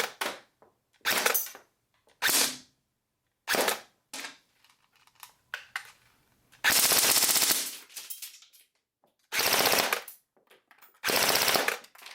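Gunfire shot through an XCortech X3500 chronograph comes in several loud, rapid bursts of fire separated by short silences, with some brief single shots and faint mechanical clicks between them.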